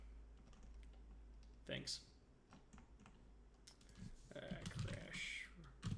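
Someone types on a computer keyboard, quiet scattered clicks and key taps, with a short spoken word and other faint noises breaking in partway through.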